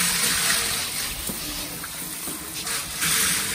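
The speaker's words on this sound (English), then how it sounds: "I've just drilled 3 inch and a half holes, and that's basically all that it drains out of there, just drip feeds." Grey water drains through drilled holes in a charcoal and tiger-worm filter, giving a continuous close watery rush and trickle with small surges, and no voices.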